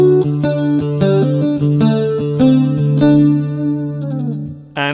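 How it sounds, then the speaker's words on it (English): Chorus effect from a Joyo DC-15S practice amp gives a clean guitar a shimmering, gently wobbling doubled tone, as several chords and single notes ring out loud and close, ending with a brief pick scrape. "Up first, chorus."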